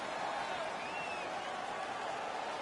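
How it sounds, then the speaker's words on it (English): Home crowd cheers in an ice hockey video game, a steady, distant roar of massed voices and applause that holds even throughout. "The home crowd is ecstatic."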